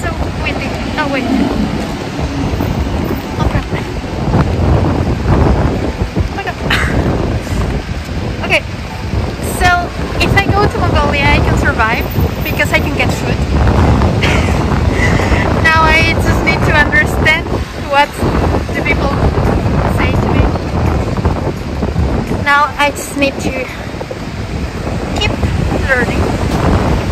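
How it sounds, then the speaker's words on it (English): Strong gusts of wind buffet the microphone outdoors, a heavy, continuous rumble that lasts the whole stretch while a person talks over it. "it's so windy."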